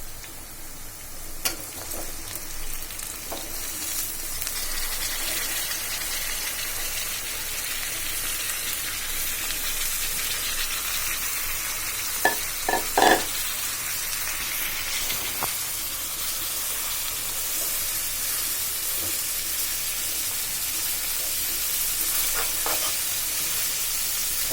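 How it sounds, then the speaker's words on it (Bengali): Yard-long beans, flat beans, potatoes and tomatoes fry in a pan with a continuous loud sizzling hiss, broken by a few sharp stirring clacks midway, with no talk. "এবার আমি কেটে রাখা বরবটি, শিম, আলু, টমেটোগুলো দিয়ে দিব"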